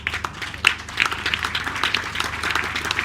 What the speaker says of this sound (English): to give Joe Pedro a very big hand of applause